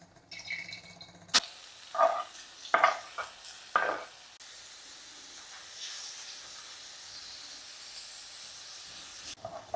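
Oil goes into a pan for egg masala gravy, with a few sharp clinks and scrapes early on before a soft, steady sizzling hiss settles in and continues quietly to the end.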